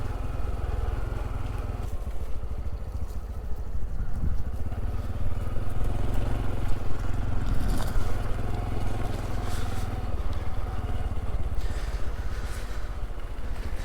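A Honda CT125 Trail motorcycle rides cross-country, its engine droning steadily and loudly throughout, with a low continuous rumble and road or wind noise mixed in.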